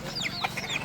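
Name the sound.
chicken clucking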